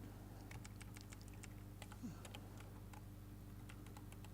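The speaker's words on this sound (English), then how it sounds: "Sorry, I'm typing today." Typing on a computer keyboard, a faint scatter of light clicks in uneven bursts over a low steady background hum.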